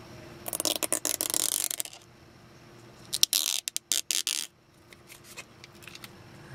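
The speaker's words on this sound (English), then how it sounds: "And I'm going to peel this off." Backing film peeled off a red J's Racing Honda steering wheel emblem: two bursts of crisp, crackling tearing and clicking, the first about a second and a half long, the second shorter and choppier, separated by a quiet pause.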